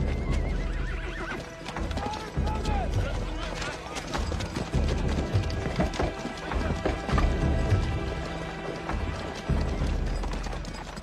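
Horses whinny and their hooves clip-clop steadily through a dramatic Western-style scene, with wooden knocks and thumps along the way. A narrator's voice runs over it throughout.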